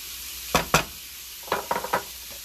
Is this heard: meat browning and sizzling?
yes